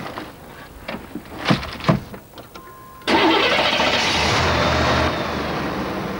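After an Optima car battery has been shot through with rifle bullets, the engine cranks and catches, then settles into a steady, fairly loud idle that drops slightly in level near the end.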